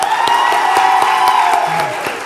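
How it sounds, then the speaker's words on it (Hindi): An auditorium audience at a literature festival claps and cheers, a loud wash of crowd noise with scattered distinct claps and a sustained tonal ring underneath, fading slightly at the end. "तो थोड़ा और ठोको ताली।"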